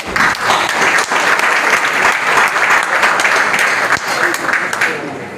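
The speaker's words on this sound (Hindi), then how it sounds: "आज ओएनजीसी जिनके वजह से इस मुकाम पर पहुंची है उनके एक जोरदार तालियां हो जाए।" Audience applause during a speech at an ONGC Foundation Day event in Surat, a dense, sustained burst of clapping from a crowd that holds steady and then begins to taper.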